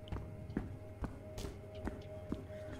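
Footsteps in a video game heard from above, a steady series of soft thuds spaced about half a second apart, faint and muffled, with no talk over them.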